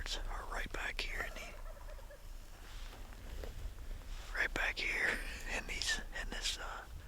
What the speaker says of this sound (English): now here right before dark we're hearing some birds gobble